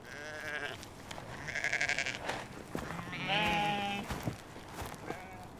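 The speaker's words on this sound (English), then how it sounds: "The sheep belong to an age-old strain of domestic animals that long ago adapted to the harsh conditions of life in the Highlands." Highland sheep and lambs bleat in a hardy, age-old domestic strain, giving several wavering calls of mixed pitch against a faint outdoor background.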